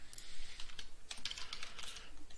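Quick, irregular keystrokes tap on a computer keyboard as a network command is typed, close and fairly quiet with no talk.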